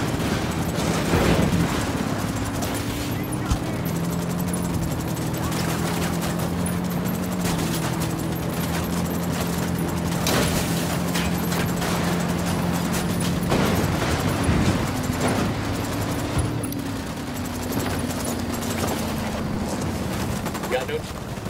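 Scattered shots and bursts of gunfire ring out in the Ghost Recon Wildlands video game over a constant droning engine hum, with people talking throughout.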